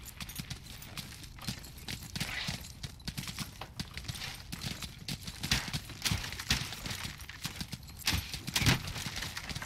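Horse hooves clip-clop steadily in the Tiger Knight video game, a busy rhythm of hoofbeats during a five-versus-five legion battle, moderately loud with scattered clashes and battle noise around them.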